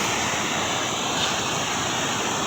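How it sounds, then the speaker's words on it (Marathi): Water rushes under a village bridge in the Konkan region after heavy rain, a continuous broadband roar that stays loud and even throughout. "पाण्याचा आवाज बघू शकता किती येतो."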